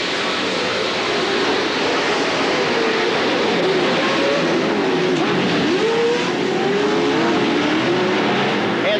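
Pro 2 and Pro 4 off-road race trucks launch from the start at Chula Vista, a loud, dense roar of many engines revving and accelerating together, steady and continuous throughout.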